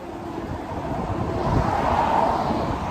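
Cool seasonal wind blows steadily outdoors beside a roadside, a broad, continuous rushing roar buffeting close to the microphone with a slight swell midway and no voices.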